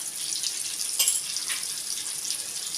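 Fish curry boiling in a pot as fish pieces go in, a soft continuous bubbling hiss with a brief louder splash partway through, faint and steady.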